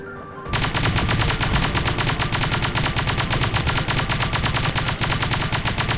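Rapid automatic gunfire from the mobile shooter Pixel Gun erupts after a brief quiet lead-in and then hammers on loud and continuous, dense bursts with no talk over them.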